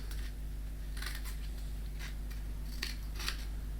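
Scissors snipping notches into the thin aluminum of a soda can, several crisp separate cuts over a steady low hum, close and fairly quiet.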